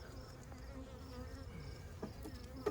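Honeybees in an open hive during a summer inspection, a steady close insect drone running throughout, with a faint brief knock near the end.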